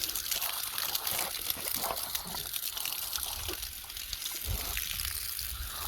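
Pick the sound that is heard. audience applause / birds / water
water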